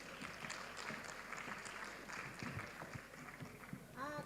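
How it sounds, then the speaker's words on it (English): Audience applause at a G20 conference session on financial inclusion and women's empowerment, a steady dense patter of many hands filling the hall for about four seconds, with faint voices underneath. "Can we give them a round of applause, please?"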